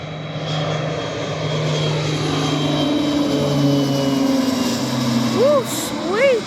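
A Star Air plane's engines drone loudly and steadily during takeoff at an Aldergrove airfield, heard from nearby, with a person cheering near the end.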